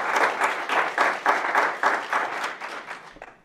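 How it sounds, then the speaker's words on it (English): Audience applause in a meeting room, dense steady clapping from a group for about three seconds before tapering off, with no talk over it. "Yeah, let's clap for that"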